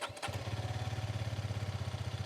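A 2023 Hero Karizma XMR motorcycle idles through its short exhaust, a close, steady low thrum with an even pulsing beat after a brief initial rustle.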